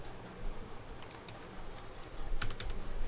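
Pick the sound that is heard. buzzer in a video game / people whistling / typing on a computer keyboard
typing on a computer keyboard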